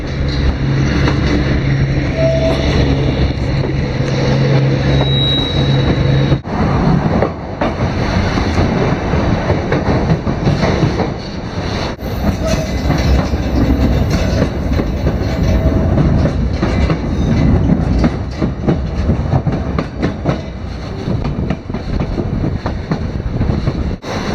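A White Pass and Yukon Route Railway train rolls steadily along the tracks near a tunnel, with a loud continuous rumble and rattling wheel clatter close by, brief clunks breaking the motion.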